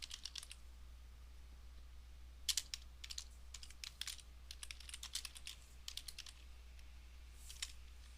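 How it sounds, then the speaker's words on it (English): Keys clatter on a computer keyboard in quick irregular bursts, faint and close, with short pauses between runs of strokes and no talking. "Press space, tab on the keyboard again."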